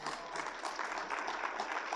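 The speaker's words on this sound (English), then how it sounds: "I would like to make sure that we applaud Vaughn for all of the hard work and dedication that went into this meeting" Audience applause at a regional land-use meeting held at Fort Liberty, a steady burst of many hands clapping that fills the whole moment at moderate loudness, with no voices over it.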